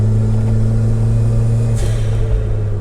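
A turbocharged Fiat Uno Mille engine idles with a deep, steady exhaust rumble through a 2-inch exhaust with rear muffler, low and droning, with a slight surge partway through and no voices.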